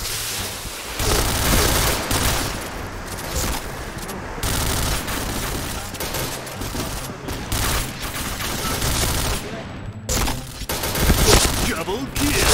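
Rapid KRISS rifle bursts in the shooter game Point Blank, dense sustained gunfire with sharp cracks and booms throughout, loud and close, with game effects layered in.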